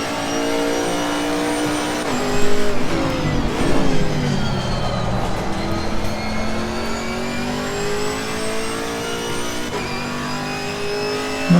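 A Camaro GT4 race car in Assetto Corsa Competizione laps Bathurst, its engine revving loudly and continuously, pitch climbing through the gears with brief shift dips and lifts into corners, with no talking.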